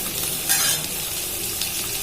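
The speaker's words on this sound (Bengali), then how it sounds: "কুমড়ো আলুটা ভালোভাবে ভেজে নিতে হবে" Pumpkin and potato fry in oil in a wok with a continuous hissing sizzle that briefly swells, fairly soft and close, with no voices.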